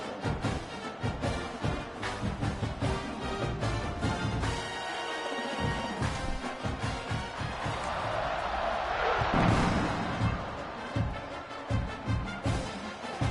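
Stadium crowd roars at an Oklahoma vs San Diego State football kickoff, a dense, continuous wash of cheering with thuds and hits. The noise swells to a loud peak mid-way, then settles.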